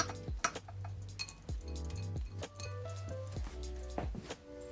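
Two cans of drained tuna going into a casserole dish: a series of close metal clinks and scrapes, soft wet plops and taps in an irregular rhythm, quiet and without voices.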